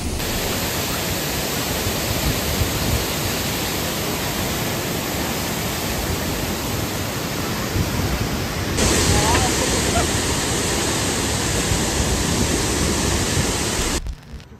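Hooker Falls waterfall in North Carolina gives a steady, dense roar of rushing water that brightens partway through, then cuts off abruptly near the end.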